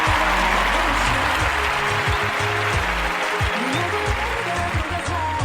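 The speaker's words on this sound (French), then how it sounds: "J'aimerais que vous acclamez pour vous-même parce que vous êtes super génial." Audience applause and cheering from a crowd, a steady dense clapping that holds loud and continuous throughout with no gaps.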